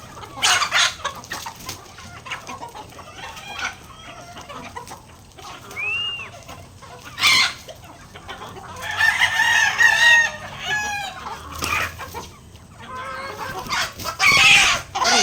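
Chickens cluck and squawk in scattered bursts over a quiet outdoor background, with a rooster crowing faintly and some calls rising louder toward the end.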